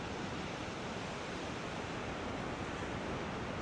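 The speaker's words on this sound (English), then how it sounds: "the tide is coming in, and we'll see the texture of the surface of the water change with the waves coming in and out" Ocean waves rolling in on a rising tide make a steady, dense wash of surf, distant and fairly faint, with no distinct breaks standing out.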